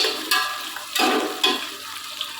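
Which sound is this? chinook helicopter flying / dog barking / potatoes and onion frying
potatoes and onion frying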